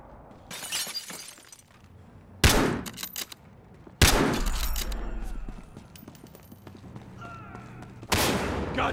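Gunfire and shattering impacts in the Battlefield Hardline video game, several loud sharp bursts separated by quieter stretches, with crackling debris and faint background combat.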